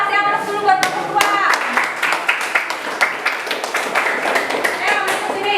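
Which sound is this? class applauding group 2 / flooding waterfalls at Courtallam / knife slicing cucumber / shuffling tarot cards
class applauding group 2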